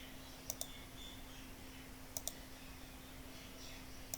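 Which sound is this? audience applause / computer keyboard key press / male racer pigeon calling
computer keyboard key press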